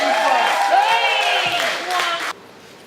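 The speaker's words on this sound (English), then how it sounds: "Give her a round of applause." Audience applause and cheering at a senior poetry slam stage as the next poet is welcomed, a loud burst of clapping and crowd noise that cuts off sharply near the end.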